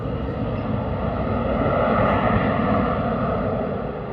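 KLM airliner engines roaring at full take-off power during the roll: a dense, steady, broadband rumble and roar with no pauses, loud and close throughout.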